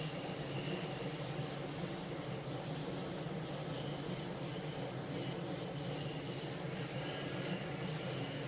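Simulated trains roll through a station on the Köln–Aachen line in Train Sim World 5, giving a steady, dense rumble with a faint metallic wheel squeal and no voices.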